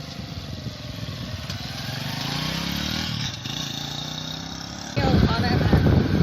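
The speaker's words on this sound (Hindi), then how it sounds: "बाइक स्टार्ट हो चुकी है" A 2022 Honda CD 70 petrol motorcycle engine runs continuously with a steady buzzing putter, close by, and grows noticeably louder and rougher near the end.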